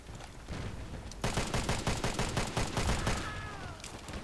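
A rapid string of P226 pistol shots in a first-person shooter, a dozen or so quick cracks in an even rhythm, loud and close, followed by a brief whistling tone.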